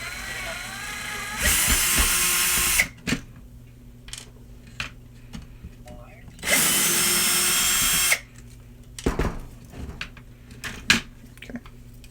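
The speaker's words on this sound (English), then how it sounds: "Black & Decker 20 volt cordless drill" A Black & Decker 20-volt cordless power drill whirs loudly in two bursts of about two seconds each, separated by clunks and handling noises nearby.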